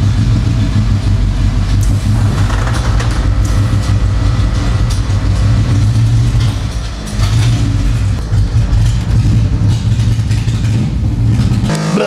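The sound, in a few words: burble-tuned car engine revving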